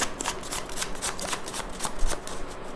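Hand-written tarot cards are shuffled close up in a quick, steady run of papery riffling flicks and slaps for a few seconds, with no talking over them.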